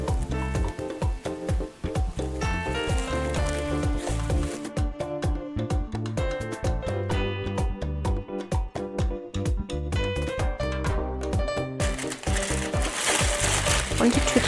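Plastic piping bag for Swiss meringue unicorn and rainbow decorations crinkles and rustles as it is folded over, a dense run of crackly crumpling at close range.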